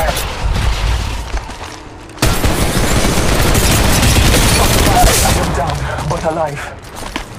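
Gunfire in an Apex Legends Mobile match crackles in dense, rapid bursts, quieter at first and then loud and sustained, with heavy thumps and mechanical clatter mixed in.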